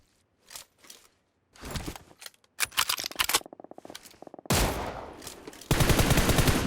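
A video game shootout brings bursts of gunfire: scattered single shots, then rapid machine-gun rattles and loud sustained volleys building toward the end, with no talk over them.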